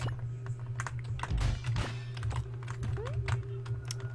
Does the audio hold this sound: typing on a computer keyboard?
yes